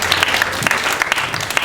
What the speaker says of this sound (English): Everyone give a round of applause for Herman's Hideaway